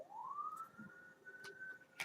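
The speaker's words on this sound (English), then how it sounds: "as you hear that siren go by" An emergency vehicle siren passes by outdoors. A single rising wail swells and then holds steady, fairly faint and distant, with soft background noise and no talking.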